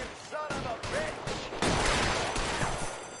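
Bursts of gunfire from LA Noire, a few sharp cracks and a denser volley, loud and close, with voices talking over the shooting.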